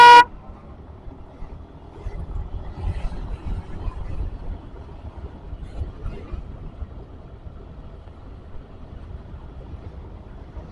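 Steady road traffic rumble on a busy two-lane route toward Ciletuh Geopark, West Java, opening with a sharp, loud car horn honk and followed by ongoing engine noise without talk.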